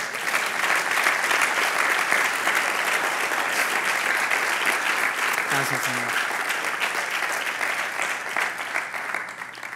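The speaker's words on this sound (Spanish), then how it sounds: "¿Le puede dar un aplauso al Señor?" A church congregation claps steadily, a dense, continuous round of applause that holds at an even level throughout, with a voice speaking briefly over it partway through.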